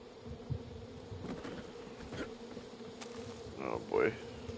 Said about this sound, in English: Or your little friend's bees.